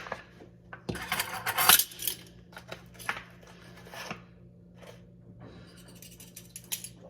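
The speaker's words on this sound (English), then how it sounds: "We're gonna go ahead and mix in our salt and our paprika." A utensil scrapes and clinks against a bowl while salt and paprika are stirred into guacamole, irregular close taps and scrapes with a louder burst early on, then softer intermittent clatter.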